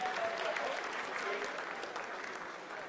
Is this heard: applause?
yes